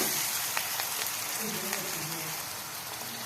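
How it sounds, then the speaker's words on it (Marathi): Coriander leaves sauté in hot oil for pav bhaji, giving a steady, close, hissing sizzle with occasional faint stirring clicks under a soft voice. "मस्त कोथिंबीर पण छान तेलामध्ये घेऊयात परतून"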